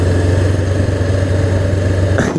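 A Honda CBR500 sport motorcycle engine holds a strong, steady low drone at close range. Near the end a brief rising shift in pitch marks a gear change before the sound cuts off.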